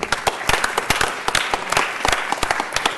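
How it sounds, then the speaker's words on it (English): Applause at a Los Angeles City Council meeting honoring a fire battalion chief, a modest group clapping with distinct individual claps standing out, steady for a few seconds. "I want to give them a big round of applause."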